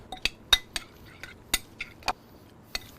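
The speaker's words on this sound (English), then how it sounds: "and now we mix." A spoon clinks sharply against a bowl, about eight distinct taps, while mixing pressed garlic cloves with a pinch of salt, close up with no talk.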